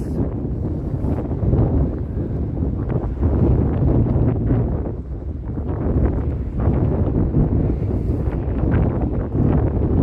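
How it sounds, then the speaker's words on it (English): Strong, gusty wind buffets the microphone on a Toronto lakeshore walk in winter, a continuous loud low roar and rumble that swells and dips throughout, with no other sounds standing out. "I'm getting blasted in the face by insane wind."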